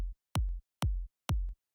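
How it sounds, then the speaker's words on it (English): Electronic kick drum in a dance music production, three loud, punchy, deep thumps evenly spaced with sharp attacks and short decays, heard alone. "I'll start with the kick. The kick sounds like this."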